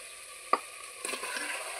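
Fish dropped into hot oily masala in a village-style Katla fish curry, a quiet sizzle starting after a single soft clink, then steady frying hiss, no talk.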